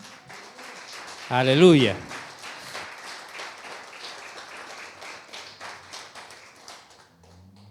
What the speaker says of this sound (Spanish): Eso merece un aplauso al Señor, ¿no?